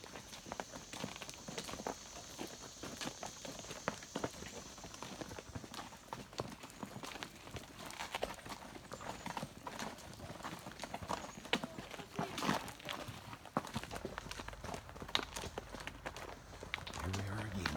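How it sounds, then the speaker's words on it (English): A slow horse walks a wooded trail in the Ozarks. Its hooves clip-clop steadily and continuously at close range, with voices faintly underneath. "I'm on a slow horse."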